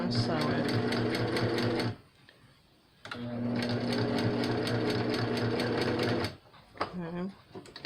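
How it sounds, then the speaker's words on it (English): A sewing machine stitching t-shirt quilt fabric runs in two loud, close bursts of rapid, even mechanical whirring separated by a brief pause, and a voice speaks briefly near the end. "right there's where I want to sew"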